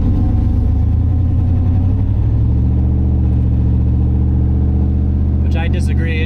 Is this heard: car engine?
yes